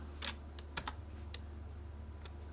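Sparse keystrokes on a computer keyboard, a handful of separate clicks spaced irregularly over a steady low hum, with no talking.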